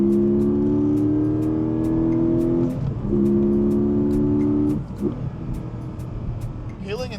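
A 2025 Porsche 718 Cayman GTS with a 6-speed manual, its engine droning loudly at steady revs, then dipping and blipping sharply as an automatic rev-match downshift flares the revs; someone talks briefly near the end.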